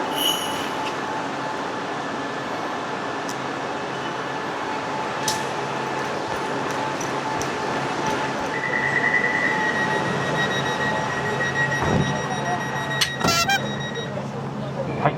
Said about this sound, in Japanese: ホームにたどり着いた時にちょうど電車が来て急いで飛び乗ってしまいました